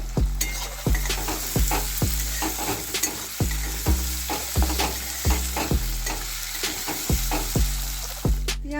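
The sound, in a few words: onion frying in oil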